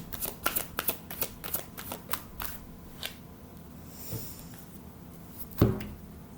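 Tarot cards being shuffled close up, a series of crisp riffling snaps and flicks in uneven rhythm, followed by softer handling and a brief knock.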